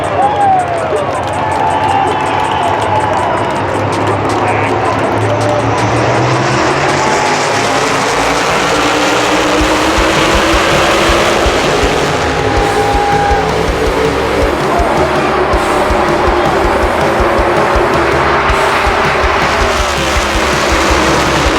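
Airliner engines at full throttle during takeoff, a sustained powerful roar that swells and stays loud throughout, heard from inside the cabin with passengers speaking over it.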